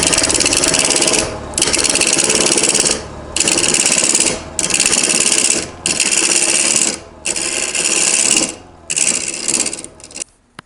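Power carver with a tungsten carbide ring roughly gouging a large wooden blank for a carver's mallet: loud, harsh grinding bursts in about six long passes with short pauses between, close and alone.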